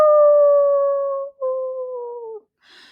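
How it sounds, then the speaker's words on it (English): A lone coyote howl used as a storybook sound effect: one long, clear, wavering tone that slowly falls in pitch, with a brief break midway, then fades with a faint hiss at the end. "A coyote howled in the distance."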